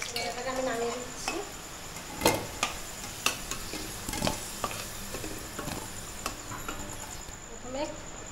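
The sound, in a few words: potatoes frying in hot oil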